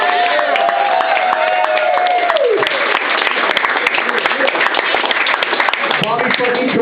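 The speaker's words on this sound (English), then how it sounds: "And let's give a big round of applause for all our fucking comics and Bobby." Comedy club audience at a stand-up show at LA Cave breaking into loud, steady applause and cheers, a dense continuous wash of clapping close by, with a voice speaking over the start.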